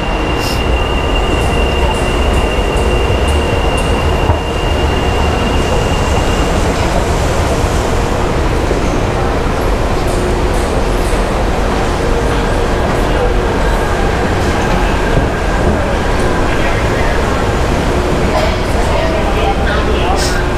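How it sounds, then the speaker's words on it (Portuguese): A São Paulo metro monorail train at São Mateus station in the East Zone makes a loud, steady rumble with a hissing roar and faint high squeals throughout, close by and unbroken. "Estação São Mateus do metrô. O metrô do monotrilho."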